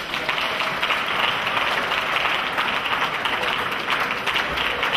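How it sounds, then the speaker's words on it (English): A church congregation applauds together during a prayer service, a dense, sustained wash of many hands clapping at close range that holds steady and loud throughout. "Clap your hands and pray for them."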